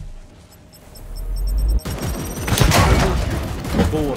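A grenade detonates in the turn-based strategy game Warhammer 40,000: Chaos Gate - Daemonhunters: a sudden loud blast that rolls into a sustained, rumbling roar with crackling debris lasting several seconds.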